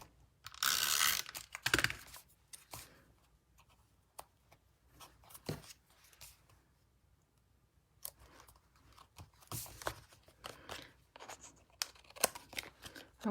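Paper card being trimmed for a Stampin' Up! Paper Pumpkin craft project, with a loud crisp burst of cutting near the start followed by scattered soft snips, taps and rustles, close and quiet with no talk.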